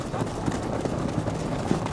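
Approaching footsteps in the video game Assassin's Creed Valhalla: a steady run of heavy, low, clip-clop-like thuds, hoof-like in rhythm, rolling continuously at a fairly loud, even level over a dull rumbling background.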